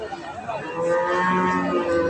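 A Holstein Friesian dairy cow moos loudly and close, one long sustained low call rising from a quieter start.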